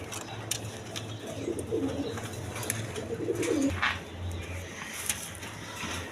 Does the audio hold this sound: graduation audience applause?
no